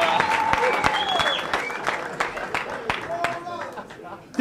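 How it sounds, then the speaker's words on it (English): A church congregation claps for Jesus during a prophetic sermon, a fairly loud run of clapping mixed with voices and shouts. "Clap hands for Jesus."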